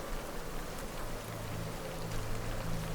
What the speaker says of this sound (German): das feine Geräusch, das der Regen auf dem Ballon macht